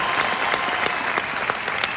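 Audience applause for Redouane at a live show by Sarah Lopez: dense, continuous clapping from a crowd, fairly close and even in loudness, with no voices over it.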